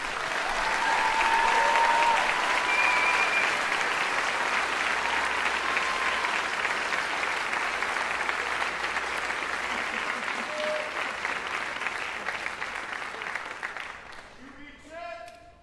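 Sustained, dense applause from a commencement audience for graduates at Tabor College, loud and even for most of the stretch before it fades out and a voice begins to speak.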